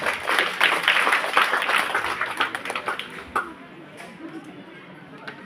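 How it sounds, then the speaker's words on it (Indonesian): A church congregation gives a choir warm applause at a priest's silver jubilee thanksgiving celebration, dense clapping mixed with crowd chatter that gradually thins and fades out over several seconds. "Tepuk tangan dulu untuk KOR ini."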